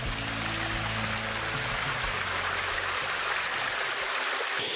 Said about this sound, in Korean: 특히 이 엔게디 폭포는 다윗의 폭포라고 이름을 붙였듯이